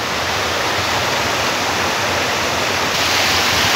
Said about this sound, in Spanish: Ya hemos llenado el agua